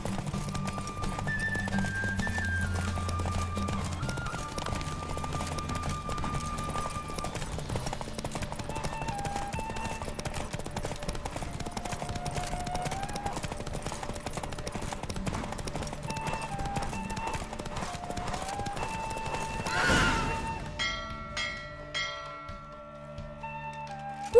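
Horse hooves clip-clopping at a gallop in The Witcher 3 game, a rhythmic beat under a music score, ending in a brief whoosh and a faint bell-like chime.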